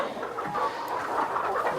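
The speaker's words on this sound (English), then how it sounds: "there's probably 150 chickens right here underneath me" A dense, continuous chorus of about 150 chickens clucking together in a farm trailer, fairly close and steady, with no clear pauses.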